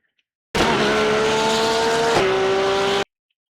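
A Porsche GT3 race car in iRacing at Daytona runs over a curb, with a loud, steady engine drone and a brief bump near the end of a continuous pass lasting about two and a half seconds.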